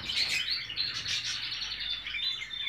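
Canaries singing at close range, bright continuous trilling and warbling with sustained high notes, fairly loud and unaccompanied by talk.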